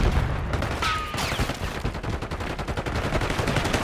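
Dense gunfire from Black Ops 6: rapid automatic bursts and overlapping shots, loud and close, forming a continuous rattling barrage for the whole stretch.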